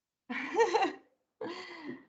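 Two close, rough coughs from a person in a recorded online meeting, each lasting under a second and separated by a brief pause, with no talking.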